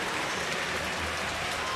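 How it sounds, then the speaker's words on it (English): Baseball crowd applauding pinch hitter Matt Wieters at a Red Sox–Orioles game in Baltimore, a steady broad patter of clapping from a large stadium audience, even and sustained with faint voices beneath. "The crowd showing their appreciation for what Matt Wieters has done."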